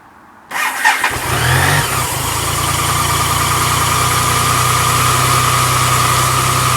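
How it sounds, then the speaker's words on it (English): A BMW K75 motorcycle engine fires up after an oil and filter service and settles into a smooth, steady idle, loud and close, a continuous low drone with no voices. "the engine sounds less rattly, much smoother"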